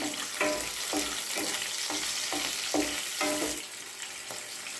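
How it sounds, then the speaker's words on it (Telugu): Green chillies frying in hot oil in a pan make a dense, bright sizzle, broken by quick stirring strokes at a regular rhythm of roughly two per second. "ఇప్పుడు పచ్చిమిర్చి వేసుకుందాం"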